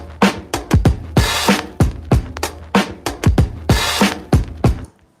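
A drum break plays as a 95 BPM loop from a vinyl record: punchy kick drums and sharp snare hits repeat in a steady, close, loud groove for about five seconds, with no voices.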